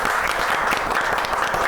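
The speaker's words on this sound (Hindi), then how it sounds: "तो आपकी मेरी सबकी तालियों में सुहेल हाशमी।" An audience at a comedy show breaks into loud, continuous applause welcoming Suhail Hashmi, with dense clapping that holds steady.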